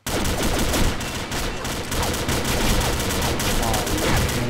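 Dense rapid gunfire from the video game Combat Arms, a continuous loud fusillade of automatic shots with overlapping bursts filling the whole stretch, with no pauses.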